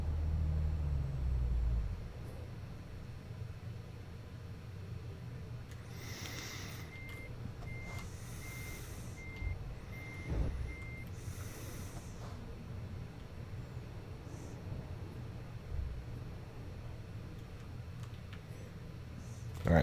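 A truck in Euro Truck Simulator 2 runs at full throttle, a steady low engine drone that continues throughout. A series of short, evenly spaced beeps sounds partway through.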